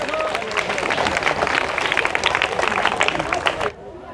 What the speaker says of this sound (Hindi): एक बार ताली हो जाए इन सबके लिए।